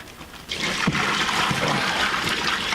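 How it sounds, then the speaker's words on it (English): Turkey brine poured from a container into a bag holding the turkey, a steady close splashing, gurgling stream that starts abruptly and continues unbroken to the end. "now we just want to put the brine into said bag"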